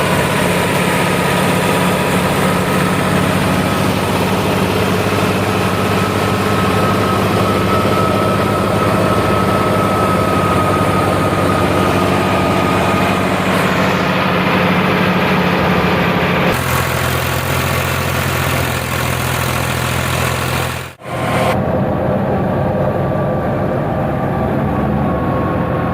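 A farm tractor's engine running steadily after a restart out in a village cotton field, a continuous low heavy idle with vibration lasting throughout, briefly cutting and shifting tone near the end.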